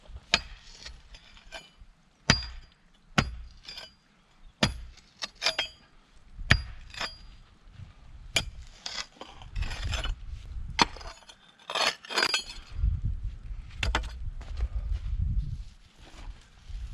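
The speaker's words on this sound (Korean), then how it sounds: "먼저 묘목 심을 자리를 정하고 뿌리 부분보다 조금 넓게 구덩이를 파줍니다." Shovel or spade digging a planting hole in garden soil for a tree sapling on a sunny spring day: sharp scraping and gritty crunching strikes recur irregularly, then give way to denser, rumbling stretches of soil being moved, fairly close.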